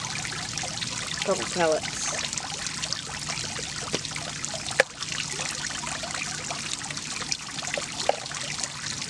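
The waterfall fountain in an 80-gallon home fish tank trickles and splashes softly and continuously, with a person talking briefly over the water.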